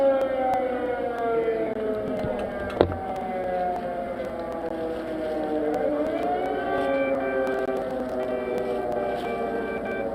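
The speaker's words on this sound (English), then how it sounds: "sirens are going off loud" Air raid sirens wailing across Kiev, a long sustained rising and falling tone that carries at a distance and holds steady throughout, with one brief knock near the start and no speech.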